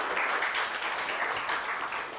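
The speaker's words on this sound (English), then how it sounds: "please give a loud round of applause to all the participants" Steady applause from a crowd at a legal declamation contest, a dense patter of many hands clapping at an even level throughout, with no voices standing out.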